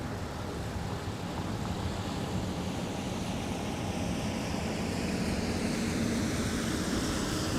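A large airliner departing MSP airport during the winter holiday rush, heard as a steady, broad jet roar that builds slightly over the clip with no talking.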